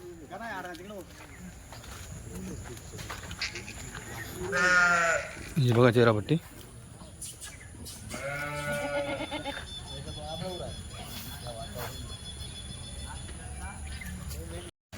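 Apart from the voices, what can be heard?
Kathiawadi goats bleating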